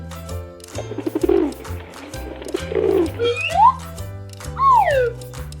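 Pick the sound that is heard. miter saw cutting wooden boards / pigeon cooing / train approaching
pigeon cooing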